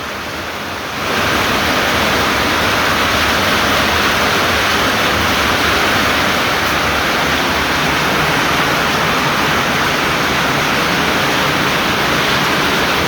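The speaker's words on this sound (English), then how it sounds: "It is pouring. We got tornado warnings." A dense, roaring wash of heavy Pennsylvania rain during a tornado warning pours down steadily and loudly after a short quieter moment at the start.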